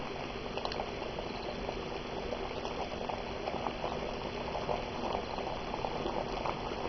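Water in an electric kettle on a single-phase supply churns at a steady, close rolling boil, a dense continuous bubbling roar that stays even from start to finish.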